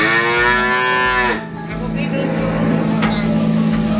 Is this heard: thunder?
no